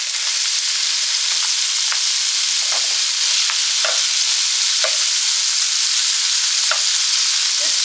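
Twelve ounces of beef smoked sausage frying in a skillet, a steady loud sizzle with occasional stirring scrapes and pops throughout, no voices.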